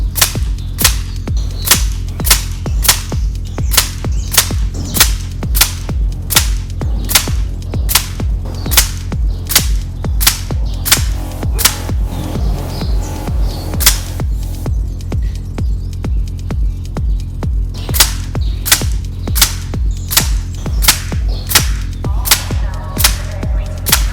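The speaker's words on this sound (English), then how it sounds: "Let's get to the actual shooting, starting on low power, going all the way up to maximum power again." An air rifle fires H&N pellets in a long series of sharp, evenly spaced cracks, roughly one per second, each loud and close over a steady low hum.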